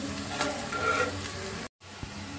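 Onion and garlic frying in oil give a short, dense sizzle with a soft stir, cut by a brief silent gap before the crackle resumes alone.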